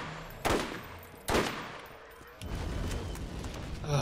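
Two sharp, loud gunshots roughly a second apart in the Borderlands video game, each decaying quickly, followed by a low rumbling background of distant battle noise.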